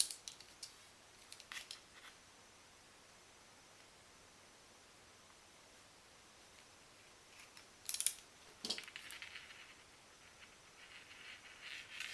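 Small scissors snip the end of an LED wire for a dollhouse lamp. Faint rustling and handling sounds come first, then a few sharp, close cuts stand out against quiet background hiss.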